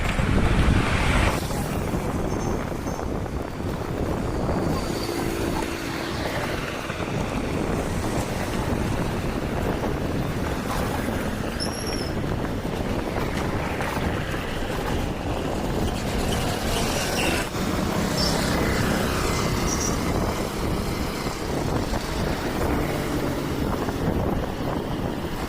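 Strong wind blowing by the Brahmaputra river, a steady loud rumble of gusts buffeting the microphone, with possible water or boat sounds underneath and no voices.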